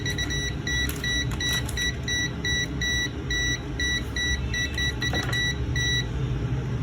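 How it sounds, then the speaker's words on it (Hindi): A SUNSHINE DT-17N auto digital multimeter gives steady, evenly spaced high beeps as it senses the live cable of a switched-on iron nearby, repeating for several seconds over a continuous low rumble of background noise. "तो ये बीप करना चालू कर दिया है इसने"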